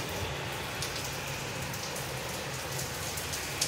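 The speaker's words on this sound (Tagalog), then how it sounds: "Sa wakas, umulan din dito sa Qatar." Rain falls in Doha, Qatar, a steady dense hiss of drops hitting surfaces nearby, even and unbroken throughout with one small louder patter near the end.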